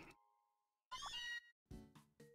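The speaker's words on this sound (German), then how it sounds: "Oh, ein Mauzi." Meowth's cry in the online game Pokemon Revolution Online, a short synthesized meow followed by a few choppy chirping bursts, loud and clear with no talk over it.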